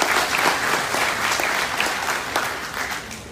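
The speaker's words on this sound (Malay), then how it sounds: "Berikan tepukan kepada untuk Zali." Audience applause at an evening gathering in Tawau, a steady, dense round of clapping from a crowd that holds at an even level for a few seconds with no talking over it.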